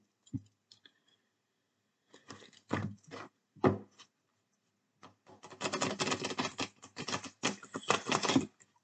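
Tarot cards shuffled and drawn for a daily reading: a dry flutter and rapid papery clicks in short bursts, then a longer dense riffle toward the end, close and fairly quiet, with no voice.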